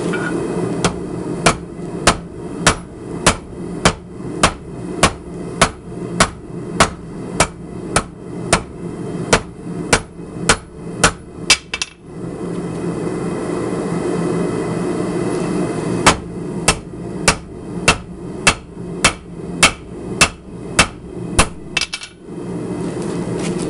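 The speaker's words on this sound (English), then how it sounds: "Now I'm going to pull out the big hammer on it and flatten out the blade." A hammer beats a hot cable skinner blade in a steady run of sharp, ringing metallic blows, pausing briefly midway before a second rapid series, close and loud over a faint background hum.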